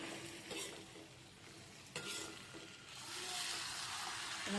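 Onions, tomatoes and spices cook in a pan for Hyderabadi veg dum biryani, giving a quiet, steady sizzle with occasional scraping stirs and a soft clink, the hiss swelling slightly near the end.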